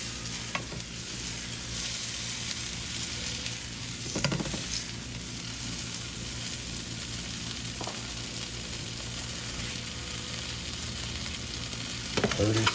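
A grilled cheese donut, bread-like donut with melting cheese, sizzles steadily in a hot pan on high heat, a continuous loud frying hiss with a few scraping stir or spatula sounds scattered through.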